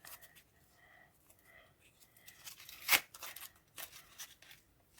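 A quiet crinkle and rip of a paper surprise packet being torn open, with one sharp tearing burst in the middle and soft rustling around it.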